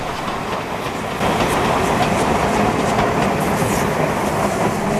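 A steam double-header train rumbles steadily along the rails close by toward Thirlmere, with a dense rolling roar and faint rhythmic clatter throughout.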